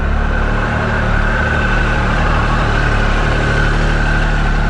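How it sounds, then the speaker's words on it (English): A 2018 Triumph Tiger 1200 XRT motorcycle engine with a new exhaust idles steadily and loudly up close, a constant low throb with no other sounds. "we will start this bike up here. So you can hear the new exhaust."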